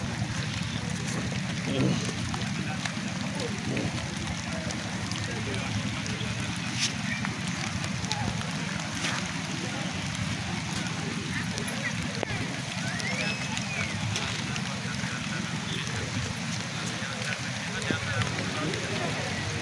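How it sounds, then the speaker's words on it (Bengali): Steady rain falls throughout, a dense continuous wash of drops heard from start to end with faint background noise and no clear voices. "বৃষ্টি পড়তেছে"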